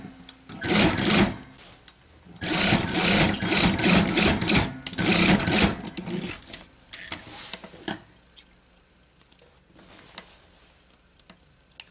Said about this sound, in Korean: 자, 여기 끝 스티치 넣을게요.